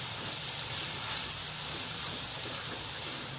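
Masala spices frying and being stirred in a pan for bhindi masala make a steady, even sizzling hiss throughout, close and moderately loud.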